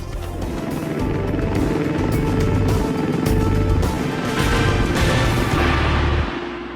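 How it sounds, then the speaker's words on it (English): An air ambulance helicopter thumps loudly nearby as it lands, its rotor beat pulsing steadily before the engine noise drops away at the end. "When the air ambulance touches down"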